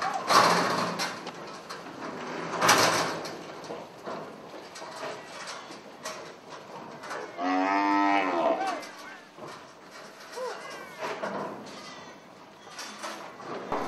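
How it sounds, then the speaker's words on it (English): Cattle moo loudly and repeatedly while being loaded up a ramp onto a triple road train at an outback livestock transport yard, one drawn-out bellow standing out above clattering hooves and metallic knocks. "Cattle was steadily running up the ramp onto the truck."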